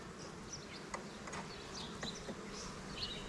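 Honey bees buzz steadily around a backyard beehive, a continuous mid-pitched drone with individual bees whining past up close, no voices.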